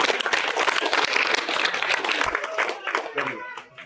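Loud, dense applause for two quiz winners at a school Gita question-and-answer event, sustained clapping from a crowd that thins out toward the end.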